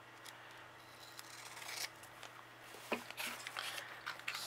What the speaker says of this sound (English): And then half the doily, so I'll cut that in half